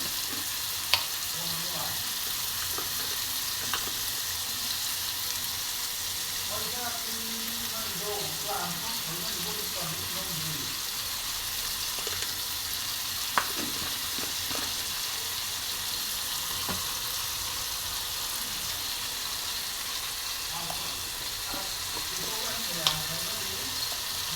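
Bamboo shoots fry in a pan with salt and turmeric, giving a steady soft sizzle throughout, with occasional stirring scrapes and a few faint clinks close by. Brief speech occurs at moments.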